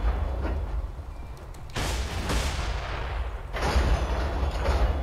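Gunshots ring out in the video game Borderlands 2. There are a few heavy, booming shots spaced about two seconds apart over a continuous low rumble.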